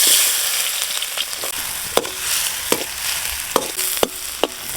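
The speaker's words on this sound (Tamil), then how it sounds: "வெங்காயம் தக்காளி வதக்கி எடுக்க எண்ணெய், கடுகு, உப்பு," Onions and tomatoes sauté in hot oil in a pan for a village-style chicken curry, with a loud continuous sizzle broken by sharp periodic clinks of stirring.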